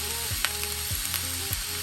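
Filipino garlic fried rice (sinangag) seasoned with salt, pepper and garlic powder sizzling in a pan, steady close frying hiss with rhythmic stirring scrapes.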